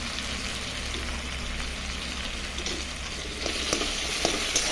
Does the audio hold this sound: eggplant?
yes